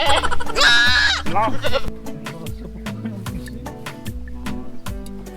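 A farm goat bleats loudly at the start, followed by a scatter of short clicks and knocks and a quieter bleat later on.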